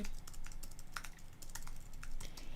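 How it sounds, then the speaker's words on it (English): Steady, brisk typing on a computer keyboard, a continuous run of close, crisp key clicks with a soft background hum and no talking. "He's typing."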